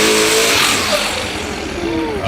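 A Ford Mustang drag car revving loudly at close range, a strong engine roar that eases slightly partway through, with a commentator talking over it.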